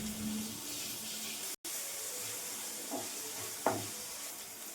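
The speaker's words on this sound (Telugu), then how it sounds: "సన్నగా తరిగిన ఉల్లిపాయలు, పచ్చిమిరకాయలు బ్రౌన్ కలర్ వచ్చేదాకా ఫ్రై చేసుకోవాలి" Chopped onions, green chillies and tomato fry in a pan, giving a steady soft sizzle and hiss throughout, with a brief break and a couple of faint stirring scrapes.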